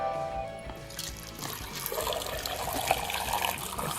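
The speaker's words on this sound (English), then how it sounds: "pour the brine over the eggs, and I'm going to pour it so that it covers the eggs" Brine poured over eggs in a jar, a steady trickling, splashing stream of liquid that grows fuller and louder as the jar fills, with no talking.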